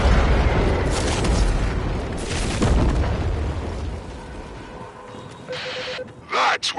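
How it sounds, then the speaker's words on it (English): Macross cannon firing in the Warframe video game, heavy rumbling booms and bursts through the first half that fade into quieter game sounds, with a few sharp pops near the end. "That was the old Macross cannon"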